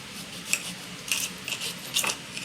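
Knife slicing through a lemon on a cutting board, a few quick, faint crisp cuts spaced about half a second apart, close up and alone.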